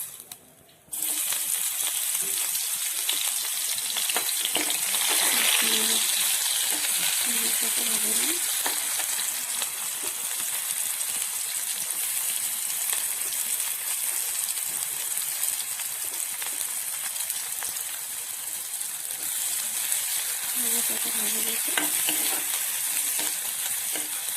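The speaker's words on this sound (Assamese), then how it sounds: "তেলখিনি গৰম হৈছে, ইয়াত এতিয়া মই দিম জলকীয়া, পিঁয়াজ," Green chillies and onions hit hot mustard oil for a matar ghugni, giving a loud, steady, close sizzle and crackle that holds almost without a break after a short quiet start.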